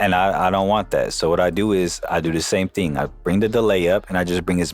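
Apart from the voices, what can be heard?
No everyday noises stand out.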